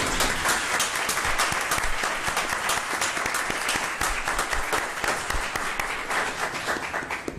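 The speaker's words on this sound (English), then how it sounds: "will everyone please give a round of applause for Ms. Braylon Evans" A room at a Jackson Public Schools board of trustees meeting breaks into sustained applause for Ms. Braylon Evans: dense, steady clapping from many hands, loud and continuous throughout.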